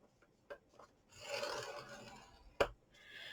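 Cardstock being scored along a line with a tool, a quiet scraping rub lasting over a second, framed by a couple of faint taps and a sharp click near the end.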